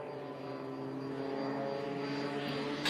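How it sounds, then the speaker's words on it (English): A propeller-driven aerobatic airplane snap rolls at an air show, its engine droning steadily from a distance and swelling slightly louder toward the end. "Snap rolling the aircraft."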